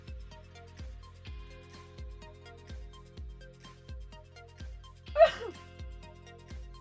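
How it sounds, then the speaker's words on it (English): A single sharp sneeze bursts out over quiet, steady rhythmic background music. "a sneeze snuck up on me."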